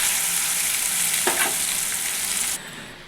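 Rohu (bochcha) fish frying in oil until golden, a loud steady sizzle with a brief scrape partway through, then the crackle drops off sharply near the end.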